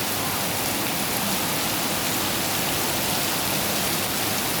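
Steady, dense rain pours down continuously, a broad hiss of drops hitting surfaces with no pauses and no voices.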